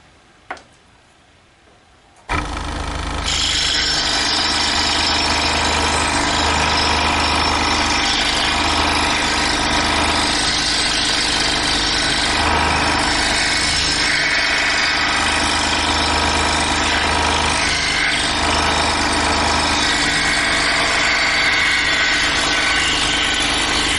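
After a short quiet start, a scroll saw starts up and cuts 3/4 inch pine with a loud, steady, buzzing drone that continues without a break.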